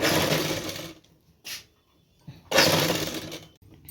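A sewing machine stitches a backless halter blouse in two longer whirring runs around a brief middle burst, close and loud, with quiet pauses between.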